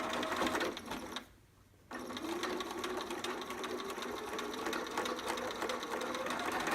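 A sewing machine stitches steadily around folded fabric, running in a continuous whir that pauses briefly for about half a second before resuming at the same steady pace to the end.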